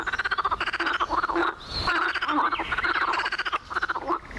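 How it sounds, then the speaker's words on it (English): A dense chorus of toads giving mating calls trills and croaks continuously in the Western Altai, many pulsing calls overlapping at moderate distance with no voices present. "the local acoustics are managed by toads. You can hear their mating songs a kilometer away"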